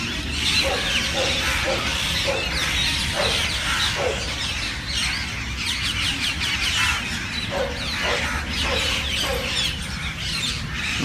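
Birds chirping and calling repeatedly near water in Lodhi Garden, Delhi, over a steady outdoor background, several short calls scattered across the scene at moderate distance.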